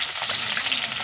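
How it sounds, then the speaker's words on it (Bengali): Onion frying in a pan, a brief loud, bright hiss of sizzling oil, steady and close with no voices. "আমি এখন ঠিক আছে এটাকে ভেজে নেব"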